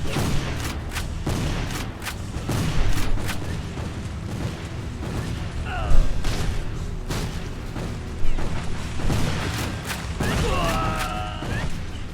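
Civil War battle scene in a video game, with continuous crackling rifle and cannon fire, booms and clatter, dense and loud throughout, with brief whistling sounds layered in.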